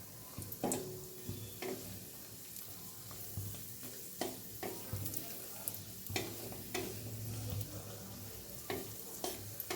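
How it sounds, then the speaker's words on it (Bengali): Cashew nuts fry in hot mustard oil in a wok, a soft, steady sizzle with quiet scraping stirs and light taps from a utensil, with no voices. "আমি প্রথমে কাজু বাদামগুলো হালকা করে ভেজে নেবো"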